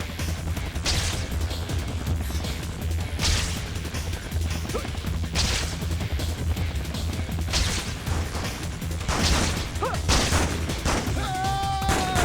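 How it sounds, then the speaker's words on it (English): Gunfire in the 2004 PS2 game Spider-Man 2, a dense run of sharp shots and crashing impacts repeating over a continuous game soundscape, with scattered voices and a whistling tone near the end. "Somebody is shooting over there."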